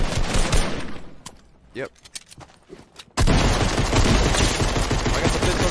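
Pistol and other gunfire in an online shooter game, a few sharp separate shots early, then a dense loud barrage of rapid fire, with a brief spoken word between.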